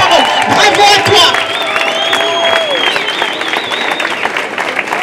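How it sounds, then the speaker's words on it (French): Lively applause from a crowd at an outdoor rally in Lyon, close and loud with scattered cheers, while a voice talks over the clapping. "Merci pour ces applaudissements"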